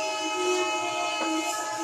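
A WDG3A diesel locomotive horn on a freight train in a train simulator game, a sustained multi-tone blare that holds steady and loud from start to finish, with faint rail rumble beneath.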